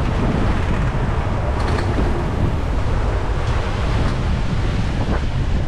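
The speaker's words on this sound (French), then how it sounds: "La houle est vraiment impressionnante." Aboard a sailboat making fast way off Saint Lucia, ocean swell rushes and surges against the hull under constant wind buffeting the microphone, a dense unbroken roar with no talking.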